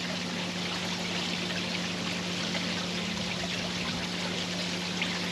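Water pours from a new chrome Bakki shower into a koi pond, a constant close splashing and trickling wash with a low pump hum underneath, no talking.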